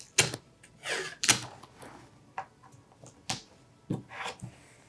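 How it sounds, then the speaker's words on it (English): Tape being pulled and pressed to hold starched fabric taut for a miniature Christmas library craft, a series of sharp rips and taps spaced irregularly, close and fairly quiet. "We're gonna tape it taut in place."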